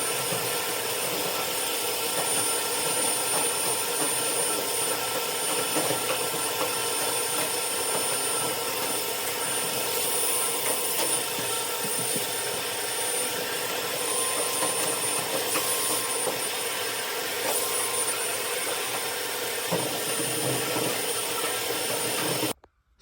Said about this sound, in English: we're going to use this piece and vacuum off what comes off of the brush